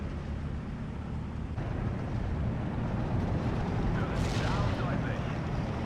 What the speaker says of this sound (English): Some more artillery hitting on the left hand side.